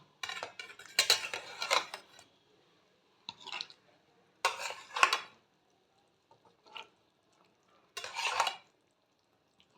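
Bhetki fish pieces dropped one at a time into boiling curry, each giving a short sizzling splash with clinks of a spatula against the pan, separated by brief quiet gaps.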